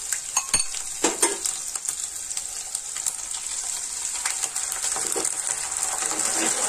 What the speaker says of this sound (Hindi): अब जो मैंने सॉस बना के रखा हुआ था वो सॉस डालेंगे इसमें